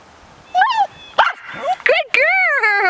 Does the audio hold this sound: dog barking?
yes